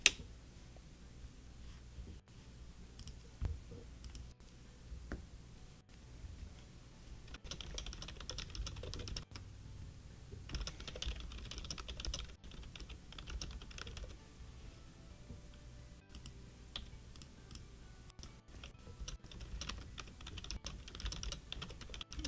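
Someone types steadily on a computer keyboard, producing fast, continuous clicking keystrokes close to the microphone for over twenty seconds, with no voice over it.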